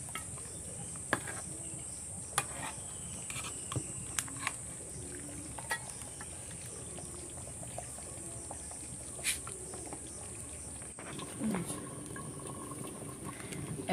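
Beef curry simmers on a wood-fired stove with a faint, steady bubbling and scattered crackles and pops, while crickets chirp softly in the background.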